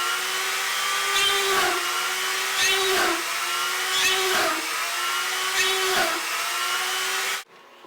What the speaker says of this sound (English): I use the Dremel to get my holes right through